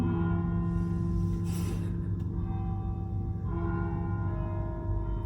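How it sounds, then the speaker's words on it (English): Church bells ringing faintly in the distance in Rome, their tones sustained over a steady background hum, with a couple of louder strikes. "obviously, like church bells or something"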